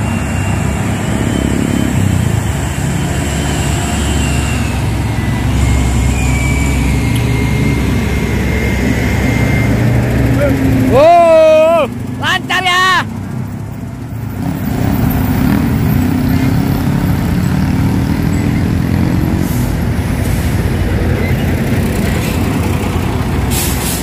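A Fuso truck labors up a hill road with a loud, steady engine drone, broken midway by a sharp air-brake hiss and squeal before the heavy rumble carries on.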